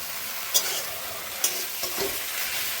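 Pumpkin leaves with salt sizzle in a frying pan as a steady hiss, while a utensil stirs them with a few distinct scraping knocks, quiet and close.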